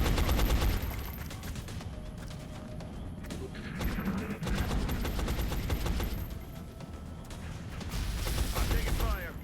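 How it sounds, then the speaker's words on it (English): Rapid bursts of suppressing gunfire crackle in XCOM: Enemy Unknown, loud and sustained with overlapping shots and mechanical clatter, while a voice speaks over the barrage. "Suppressing fire."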